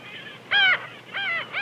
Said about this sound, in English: The uproar involving the angry birds back there has caused the skuas to be mobbed by a group of kelp gulls